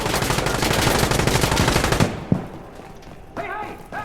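Dense automatic gunfire in the shooter game Insurgency Sandstorm, a loud continuous rattle for about two seconds, then a single sharp shot and scattered fainter noises, with a voice briefly heard near the end.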